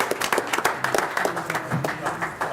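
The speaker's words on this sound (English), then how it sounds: "Round of applause for pack" Audience applause for a scout pack at a Schaumburg village board meeting, a brief burst of dense clapping, close and lively, with a voice speaking over it.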